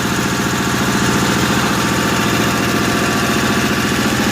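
A 1955 Cushman Truckster engine idles steadily while warming up from a cold start, a loud, close, rhythmic chugging with a low knocking pulse and no voices.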